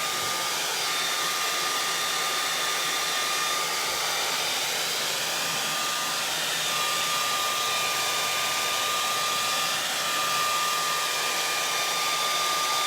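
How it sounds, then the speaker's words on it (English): A hair dryer drying painted stripes blows steadily and loudly for the whole stretch, an unbroken close whoosh with a faint whine and no talking. "since I'm just trying to hurry and show you guys the process, I'm using a hairdryer."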